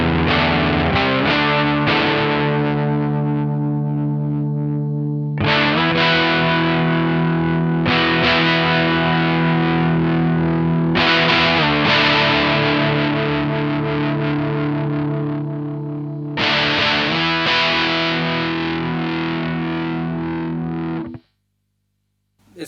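A DOD Overdrive Preamp 250 guitar pedal with the gain turned up gives a gritty, saturated overdriven electric guitar. Strummed chords ring out and sustain in several bursts, then cut to near silence at the end.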